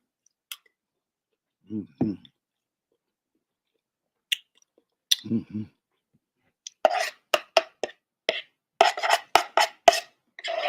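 Crunchy cereal and a piece of banana are eaten close to the mic: a few isolated wet munches, then a rapid run of crisp crunching chews in clustered bursts, with no talking.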